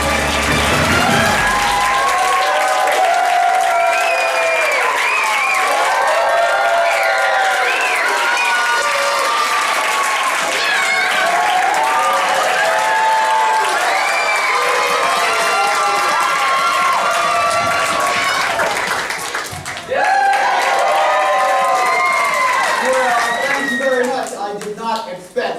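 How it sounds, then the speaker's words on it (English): Live theater audience at an adventure show bursts into loud, sustained applause mixed with cheering and excited shouting, with children's voices rising over the clapping throughout and a brief dip near the end. "Round of applause."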